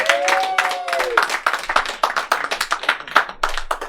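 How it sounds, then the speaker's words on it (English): A comedy bar crowd applauds and cheers a comedian, with clapping dense at first and then thinning into more distinct claps, alongside a few shouts and whoops from the audience. "Give a round of applause for Anna Marie Long!"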